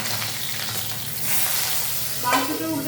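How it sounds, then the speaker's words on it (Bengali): Pabda fish frying in hot oil in a kadai, loud steady sizzling with a brief scrape and spatter as the fish is turned near the end. "এবার আমি দেখবো মাছটাকে উল্টে দেবো।"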